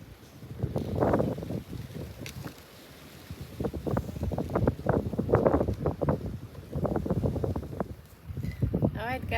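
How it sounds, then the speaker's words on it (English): Strong wind buffets the microphone in low rumbling gusts while someone talks loudly over it throughout. "It's so windy."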